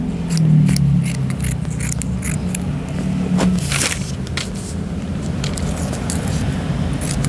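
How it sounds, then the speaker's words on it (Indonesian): Scissors cut along the grain of dress fabric for a gamis, giving a series of crisp snips and sliding blade scrapes at close range over a low steady hum, with no talking. "Kita gunting."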